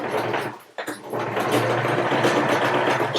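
A sewing machine stitches a regular seam on a fabric face covering, running in a steady fast whir close by after a brief pause near the start.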